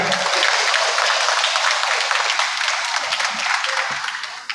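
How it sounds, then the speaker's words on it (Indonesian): Audience applause at a public debate between regency head and deputy candidates in Lampung Utara, dense lively clapping from a large crowd, loud and sustained, easing slightly toward the end. "boleh kita kasih tepuk tangan yang paling meriah"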